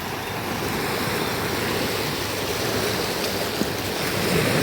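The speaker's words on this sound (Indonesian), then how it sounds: "Dan kali ini lagi di pantai" Surf washing onto a rocky, sandy beach in Indonesia with a boat offshore, a steady broadband wash of waves and light wind that holds constant, with no voices.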